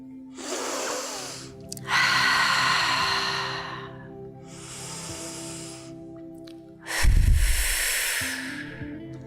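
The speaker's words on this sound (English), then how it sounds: "remember to use the Ujjayi breathing so you can hear the breath" Ujjayi breathing during a calming yoga practice: slow, audible breaths drawn through a constricted throat, with soft hissing inhales and exhales rising and falling over several cycles against a steady, quiet tonal background.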